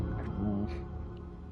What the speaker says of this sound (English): That's the sound of it eating that, by the way.